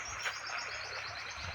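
Birds chirp outdoors near a home, a dense, continuous twittering at moderate level with no voices over it.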